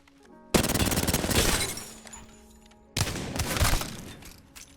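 Two sustained bursts of rapid automatic fire from the R9 weapon in the video game Apex Legends, loud and close, the first lasting about two and a half seconds and the second nearly two, with no talking.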